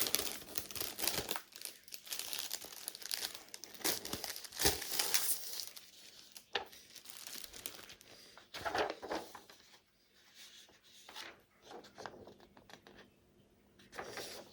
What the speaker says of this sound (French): Allez, on va quand même la déballer.